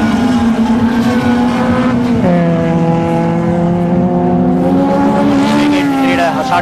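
Sustained engine drone of race cars up to 1600cc competing at the Walawe Super Cross, a steady whine whose pitch dips and climbs as they run, with a commentator's voice over it.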